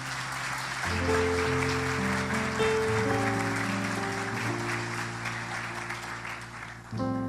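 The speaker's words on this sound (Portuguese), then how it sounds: "Uma salva de palmas." A church congregation claps after a baptism, steady sustained applause from many hands with music or voices faintly underneath, ending after several seconds.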